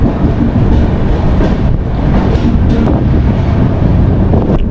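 Shalimar–Gorakhpur Express train running fast after leaving Kharagpur, a loud, steady rumble of wheels on rails with wind noise over the microphone, continuous throughout with no talking.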